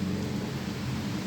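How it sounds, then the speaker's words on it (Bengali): Steady rain during a pre-monsoon Jyeshtha shower after intense heat and a darkened sky, a dense continuous hiss and patter with a low rumble beneath, filling the whole short moment with no voices. "বৃষ্টি আসছে"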